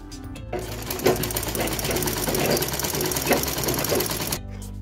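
A sewing machine stitches the back of a blouse in one steady, fast-chattering run of a few seconds, starting and stopping cleanly, close and fairly loud with no talking.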